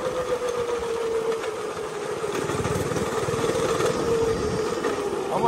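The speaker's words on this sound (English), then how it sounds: "I'm just enjoying the little cruise on the go-kart." Small go-kart engine running steadily while cruising, a continuous buzzy mid-pitched drone with a steady hum and no pauses, close and fairly loud throughout.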